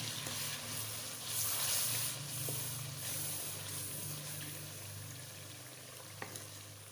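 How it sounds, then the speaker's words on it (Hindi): Red chili powder, turmeric and salt fry with a splash of water in a pan for an eggplant curry, giving a steady close sizzle and hiss with no voices. "अभी 2 से 4 मिनट उसके ऊपर भून लेते हैं"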